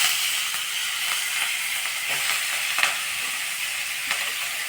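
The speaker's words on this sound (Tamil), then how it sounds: "அதில் படப்படம் வெடிக்குது இப்போ நம்ம கருவேப்பிலை சேர்த்துக்கலாம்" Curry leaves and chopped greens splutter and crackle steadily in hot oil, a dense close hiss with scattered sharper pops throughout.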